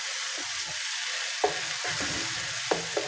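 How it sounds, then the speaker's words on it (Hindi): A spoon stirs spice masala frying in a pan with a little water, a continuous close sizzle broken by scraping strokes and a few sharp clinks against the pan, with no voices. "इसको अच्छी तरह मिक्स करके हम इसको अच्छी तरह मिक्स कर रहे हैं।"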